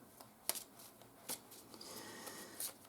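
A few soft card shuffles, with brief riffles spaced about a second apart, close but faint in a quiet room, with no talking.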